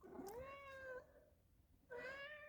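A cat meows twice close by, a long rising-and-falling meow followed after a short pause by a second shorter one, soft and clear with no talk over it.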